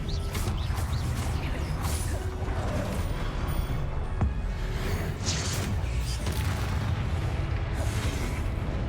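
Spells cast in the Hogwarts Legacy video game, Confringo fire blasts and Expelliarmus disarms, produce dense booming bursts and crackling impacts over a continuous loud wash of game effects and music.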